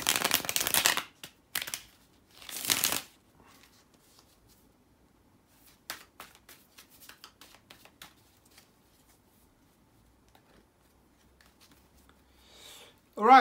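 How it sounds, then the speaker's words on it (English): Tarot cards being shuffled in a few quick riffling bursts near the start, then quieter sporadic handling sounds and a brief voice at the end. "Let me shuffle the cards, guys, and we can get right into it."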